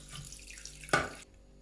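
Water, 130 grams, is poured into a Thermomix mixing bowl to make dumpling dough, a brief close gush of running water that cuts off sharply, with no talk.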